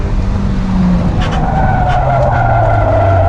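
Loud tire squeal from a stock Mazda Miata skidding under hard braking, over a steady engine rumble, with a few sharper chirps midway.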